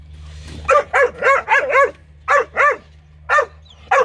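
A young female puppy barks in a quick series of about eight sharp, high yips, loud and close, some in fast clusters and others spaced apart, over a low steady hum.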